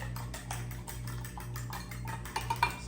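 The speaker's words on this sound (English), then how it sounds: "So I'm just gonna whisk these together." A fork whisks ingredients together in a bowl, producing rapid, close, light tapping and clicking strokes in a quick continuous rhythm, over a low steady hum.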